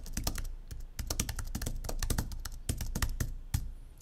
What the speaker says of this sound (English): I would just type in there.